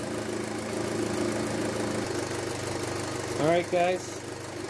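Audi A4 B6/B7 2.0T engine idling steadily with a low, even hum throughout, warming up after a rear coolant flange repair; someone speaks briefly near the end over the running engine.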